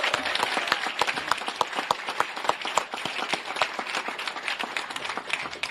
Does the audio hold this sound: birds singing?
no